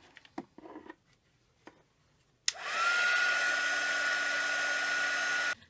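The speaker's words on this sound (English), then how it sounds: "I'm going to hit this with the heat gun" A few light taps and paper rustles, then a heat gun switches on abruptly and blows with a steady, loud, close whirring hiss to dry an artist trading card.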